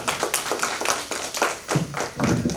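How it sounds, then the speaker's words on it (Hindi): An audience at a Maithili poetry gathering in Ujjain claps in a steady, fairly loud round of applause, individual hand claps distinct and uneven, with no talk over it. "एक बेर ताली कृपा कर के हुनका लग बजाइए।"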